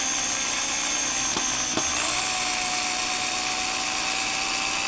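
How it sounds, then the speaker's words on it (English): Power tool driving long bolts through a long-distance skateboard deck, a steady whirring drone held throughout with a couple of faint clicks near the start. "I really use power tools, is just when I have these really long bolts and I want to save a little time getting these through"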